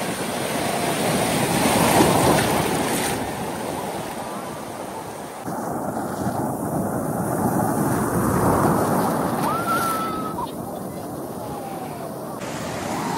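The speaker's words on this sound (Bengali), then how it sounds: "আর একটা বড় ঢেউ হচ্ছে" Sea waves break on the beach at New Digha in a continuous roaring wash that swells and fades in long surges, loud and close, with distant voices mixed in.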